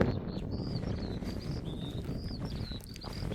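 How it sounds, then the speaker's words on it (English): Birds singing in a back garden, a few thin high whistles and chirps repeating over a steady outdoor background rush, moderately distant. "Sound of the birds is nice."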